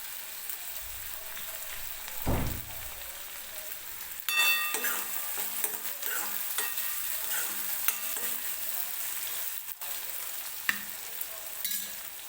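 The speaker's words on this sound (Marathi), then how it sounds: "टोमॅटो मऊ होईपर्यंत तेलामध्ये भाजून घ्यायचा" Chopped tomato frying in oil in a pan while it is stirred, a steady near sizzle with scraping spoon strokes and soft clinks throughout, no talking.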